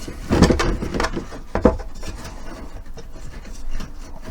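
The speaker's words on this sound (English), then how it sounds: "So, I shall bring the whole assembly over here." A wooden assembly being moved and clamped onto a bench sander in a workshop, giving a couple of knocks followed by rubbing and scraping of wood against the bench, close and moderately loud.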